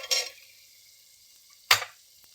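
Boiled rajma beans tipped into a pan of hot sizzling masala, two short bursts of sizzle with quiet between them.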